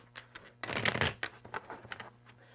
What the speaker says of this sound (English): now I'll shuffle and lay out the other one for you